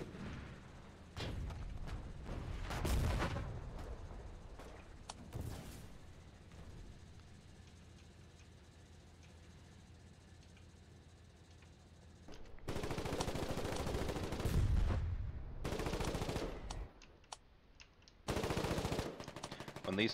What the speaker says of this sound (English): the howitzer garrisons are firing back now